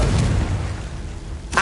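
In Hogwarts Legacy, a Confringo spell erupts as a loud, booming blast with a deep rumbling tail, followed by a short sharp crack at the very end.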